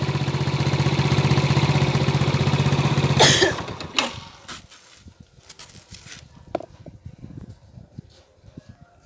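A stationary motorcycle fitted with a freewheel fuel-saving sprocket idles steadily and loudly for about three seconds, then cuts off into a sharp burst followed by quieter scattered clicks and knocks.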